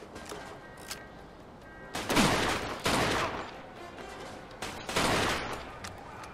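Gunfire in the video game Mafia 2, several loud bursts of shots in quick succession separated by brief lulls, with steady game background noise underneath.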